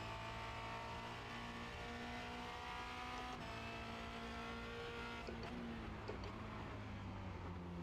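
A Formula Renault 2.0 race car at Circuit de Barcelona-Catalunya drones steadily from the cockpit, its engine note holding high and continuous, then dipping in pitch as it shifts down while slowing.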